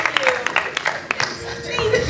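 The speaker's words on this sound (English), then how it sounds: "Let's give a big round of applause." Scattered hand claps from an audience at a dinner theater fundraiser, a few sharp close claps over crowd noise, with voices talking on top.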